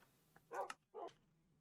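A dog in a Minecraft server barks twice in quick succession, short yapping calls, fairly faint against a quiet background.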